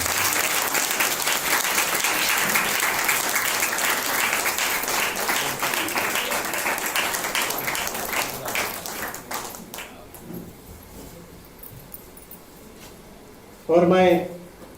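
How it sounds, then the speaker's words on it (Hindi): Loud, dense audience applause at a church gathering fills most of the clip, then fades out near the end, where a brief burst of voice follows. "ये जोरदार तालियों के साथ"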